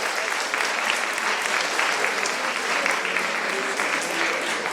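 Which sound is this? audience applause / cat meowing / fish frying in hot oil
audience applause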